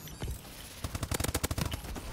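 Rapid video-game gunfire from Call of Duty Advanced Warfare, a quick burst of a dozen or so sharp cracks clustered in the middle after a few scattered shots, fairly close and punchy, with no talk over it.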